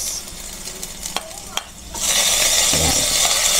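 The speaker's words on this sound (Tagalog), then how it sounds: "Sabay na po natin ang bawang at sibuyas." Garlic and onion hit a hot pan for pork binagoongan, a loud steady sizzle that breaks out suddenly after a quieter start with a few light clinks and stirring scrapes.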